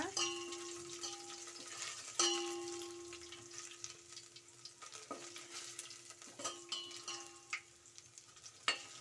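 Oggarane tempering frying in a pan for obbattu saru, a steady sizzle broken by stirring scrapes and occasional clanks of a metal spoon against the vessel.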